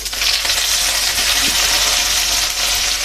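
Cumin seeds and curry leaves crackle in hot oil for jeera rice, a steady loud sizzle with a faint clink near the middle.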